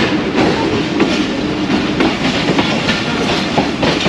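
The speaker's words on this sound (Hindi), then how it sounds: "एक खूबसूरत कर्व लेते हुए ट्रेन," A train rolls steadily through a rail yard while taking a curve, with loud, continuous rumble and rhythmic clickety-clack of wheels over rail joints, heard close with no voices.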